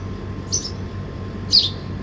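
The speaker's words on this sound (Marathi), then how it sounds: "आधी मस्त पक्ष्यांचे आवाज येत आहे" Birds chirp outdoors on a morning: two short, bright calls about a second apart, fairly faint over a low steady background hum.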